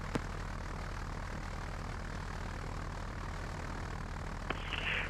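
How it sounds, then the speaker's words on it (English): A Cessna 172 light aircraft engine runs steadily on a runway before takeoff, a continuous broadband drone with low propeller throb, fairly loud and near, with no talk. "Foxtrot, Mike Victor Uniform, Cessna 172, intending to backtrack runway 26 for takeoff"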